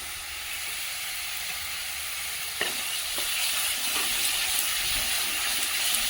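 Ginger paste and a spice paste for a Bengali fish and potato curry frying hard over a high flame, a steady close sizzle with a sharp clink and spoon strokes in the second half, no voices.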